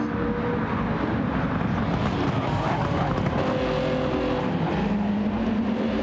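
Several Honda race cars in a racing video game on the Daytona road course, engines droning loud and steady side by side, a continuous dense roar with no talk.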